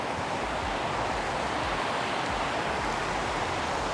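A waterfall and fast-flowing mountain stream on the Annapurna trek roar in a dense, unbroken rush of white water, loud and close, with no voices.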